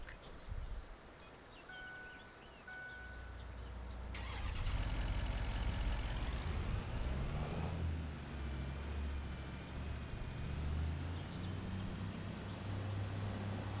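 A truck in Farming Simulator 25 has its engine started, with a mechanical whir and then a steady low rumble settling into idle. A rising whine and hiss sit on top, and no voices are heard.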